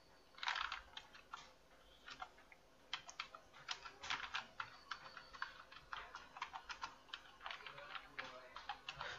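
Typing a name into an online passport application form on a computer keyboard: quiet, irregular bursts of close key clicks, sometimes in quick runs and sometimes in single taps, with no speech.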